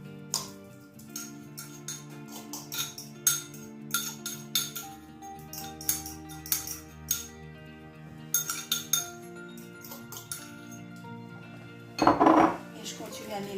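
Utensil scraping and clinking against a bowl as tuna quiche filling is stirred, a steady series of light metallic taps and scrapes up close, with a louder rattle near the end and no talking.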